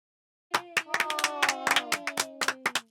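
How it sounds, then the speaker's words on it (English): A group of children in a classroom clap for a classmate, a short burst of brisk, slightly uneven applause, close and lively, with a faint voice mixed in. "Claps for him."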